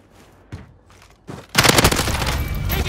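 Burst of rapid gunfire erupts in a video game hardpoint battle, loud and dense after a few quieter shots and thumps, continuing steadily to the end.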